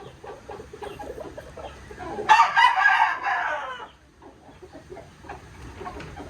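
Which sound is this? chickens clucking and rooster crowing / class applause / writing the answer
chickens clucking and rooster crowing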